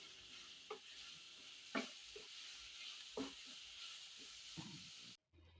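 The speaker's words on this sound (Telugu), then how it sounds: "క్యారెట్ తురుము కూడా బాగా ఇందులో ఫ్రై అవ్వాలి" Grated carrot frying in a pan for carrot rice, a steady close sizzle and hiss with occasional spatula scrapes and stirs throughout, cutting off just before the end.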